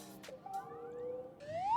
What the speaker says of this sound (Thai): นี่คือเสียงสตาร์ทรถแล้วนะ